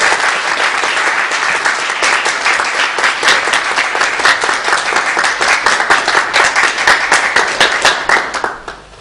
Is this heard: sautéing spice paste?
no